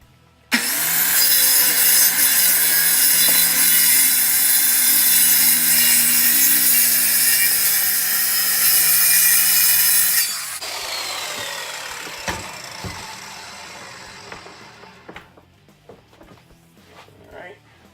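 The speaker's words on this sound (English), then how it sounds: "Plunge this blade in." A plunge saw blade bites into wood, a loud, steady high whine of cutting for about ten seconds that then cuts off, leaving the motor winding down amid faint workshop knocks.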